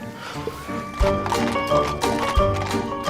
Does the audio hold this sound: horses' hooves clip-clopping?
yes